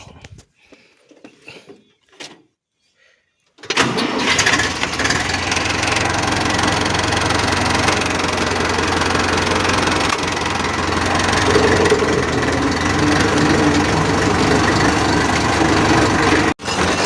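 A tractor engine starts up after a few seconds of quiet handling noises, then settles into a steady, loud, continuous idle that runs until the end with no talk.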